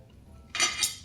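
Two quick metal clinks of cutlery against a plate while eating a beef and potato meat pie at a Christmas dinner, close and clear after a near-silent pause.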